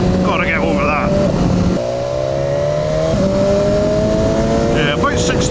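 A 2018 BMW S1000XR motorcycle engine drones loudly and climbs in pitch through gear changes as it accelerates, with a voice heard briefly over it.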